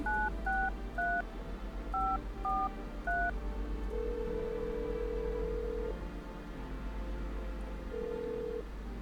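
Telephone keypad dialing in a spooky video game, used to call a neighbor. A quick run of dual-tone button beeps is followed by long, steady ringback tones, all on a low, steady background hum.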